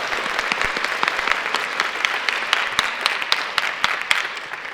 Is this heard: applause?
yes